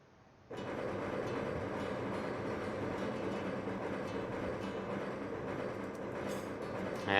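A video-game cargo train rolls steadily along after its rear cargo cars are released, a continuous dense rumble and rattle of wheels on rail holding at an even level for several seconds, with no voices.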